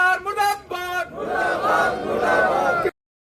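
Protesting farmers in Sirsa chant slogans together in rhythmic, loud bursts, then break into a sustained roar of massed shouting voices from a crowd.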